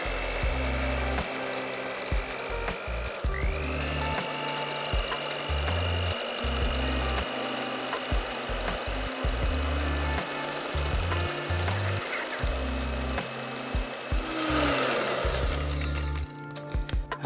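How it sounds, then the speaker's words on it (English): An electric whisk whips custard for Vietnamese coffee, giving a steady, close mechanical whir with a rough rattling edge that runs without a break for the whole stretch. "if you've got an electric whisk,"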